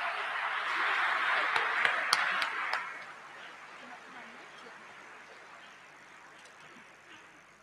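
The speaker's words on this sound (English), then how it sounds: "Ladies and gentlemen, please give them a big round of applause." Audience at a Goa Institute of Management college fest stage show applauding performers, a dense burst of clapping with a few sharp claps, building then fading out after about three seconds into quiet room hum.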